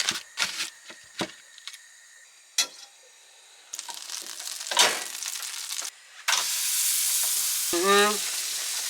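Burgers fry in a pan with a sizzle that starts in short bursts among clatters and scrapes, then settles into a steady loud hiss near the end, with a brief squeal over it.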